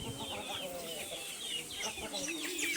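Chickens and a rooster cluck on a farm, overlapping soft calls at a moderate distance with faint background noise and some talk.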